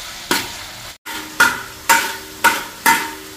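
Onions sautéing in a pan under a low sizzle, with five rhythmic scraping strokes of a spatula about half a second apart, close and clear, with no voices.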